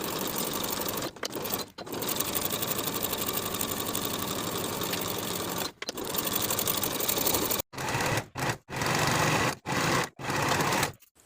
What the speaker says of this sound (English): Sew the underarm and the side seam with a 3/8 inch seam allowance in one continuous set of stitches.